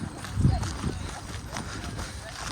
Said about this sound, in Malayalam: ഇവിടെ 2 കുതിരയാണ്, 2 കുതിര നിൽക്കുന്നുണ്ടല്ലേ.